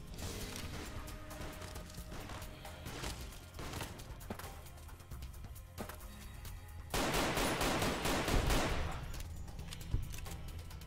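Gunfire from Fallout: New Vegas rattles through a modded desert roadside fight, with scattered shots early on, then a loud, dense burst of rapid fire that fades out, followed by a single later crack.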